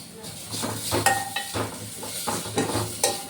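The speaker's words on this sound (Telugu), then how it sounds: "జీలకర్ర, వెల్లుల్లి వేసుకొని గోలనివ్వాలండి" Cumin, garlic and coriander seeds sizzle steadily in a pan for ridge gourd chutney, with repeated scraping stirs cutting through the frying hiss at close range.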